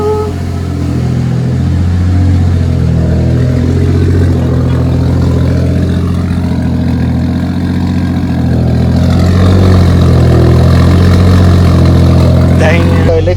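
A turbocharged M104 engine swapped into a Mercedes W203 idles loudly and steadily with a deep drone, rising slightly near the end as the turbo spins, while someone talks over it.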